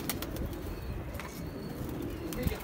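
Pigeons flap their wings at close range, a soft, busy flutter that keeps going throughout with no voices.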